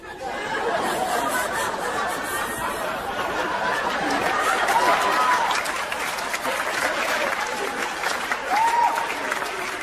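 A stand-up comedy audience applauds steadily for several seconds, clapping dense and sustained, with scattered chatter and a few chuckles mixed in.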